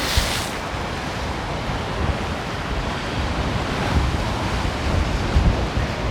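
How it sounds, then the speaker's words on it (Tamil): Strong sea waves surge during flooding on the Jaffna coast near Valvettithurai, Sri Lanka, a steady broadband roar of surf with wind buffeting the microphone and no talk. "இந்த இடங்களில் பயங்கர அலையாக இருக்குது பாருங்க"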